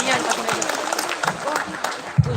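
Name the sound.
audience applause at school talk show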